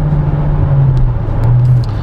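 A 600-horsepower Chevrolet Camaro SS engine revs lightly under partial throttle, giving a steady, close, low rumbling drone that holds for about two seconds with no talking.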